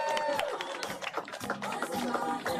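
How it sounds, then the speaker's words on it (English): Crowd applauding contestants at an outdoor DC burger-eating contest, a steady spread of clapping and cheering with a voice talking over it throughout. "let's give all of our contestants a round of applause"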